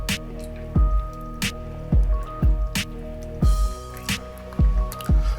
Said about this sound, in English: let me take a sip of water real quick